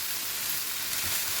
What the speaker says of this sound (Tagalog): Haluin natin yung ating lentil.